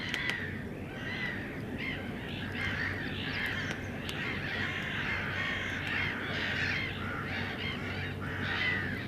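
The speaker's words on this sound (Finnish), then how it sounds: "Se on ilmeisesti tässä saaressa tommonen lokkien ja variksien huutokilpailu meneillään" Crows and gulls call noisily on a lake island in Finland, a dense, continuous chorus of overlapping caws and cries at moderate distance, with no voices.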